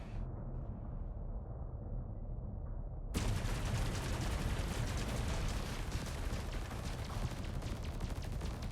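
Rapid bursts of pulse laser fire from a ship in Elite Dangerous, beginning as a low rumble and then breaking into a dense, continuous crackling volley at close range that fills the remaining seconds.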